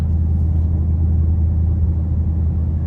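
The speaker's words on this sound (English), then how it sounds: "It's just straight up supercharger on a V8." A 2023 Dodge Charger Hellcat Widebody Jailbreak idles with its supercharged V8, a loud, steady, deep rumble heard from inside the car with no talking.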